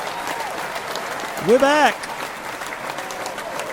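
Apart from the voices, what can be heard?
studio audience applause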